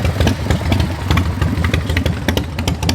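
Motorcycle engines rumble and putter nearby, a loud steady idle with rapid clattering pulses and slight revving.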